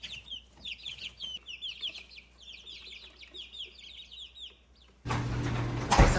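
Chickens cluck and chatter in short bursts at moderate distance, followed by a sudden rush of rustling noise near the end.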